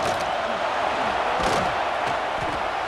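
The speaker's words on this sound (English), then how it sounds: "the crowd really making some noise now, trying to help out this defense to get this stop near the goal line" Stadium crowd roaring near the goal line in the EA Sports College Football 26 video game, a dense sustained wash of cheering with a few sharp thuds, and a commentator's voice faintly mixed in.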